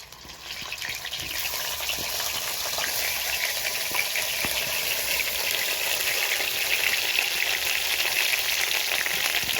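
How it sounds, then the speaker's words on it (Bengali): Teasel gourd pieces fry lightly in hot oil in a kadai, a steady, dense sizzle that holds close and loud from start to finish with no talking. "কাঁকড়গুলো অল্প হালকা করে ভেজে নেব"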